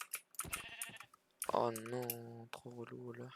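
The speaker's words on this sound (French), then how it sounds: "C'est le bruit de mouton, ça que j'entends." Sheep bleating in a video game, a couple of harmonic, wavering bleats in the second half layered over keyboard typing and mouse clicks, with someone speaking briefly near the start.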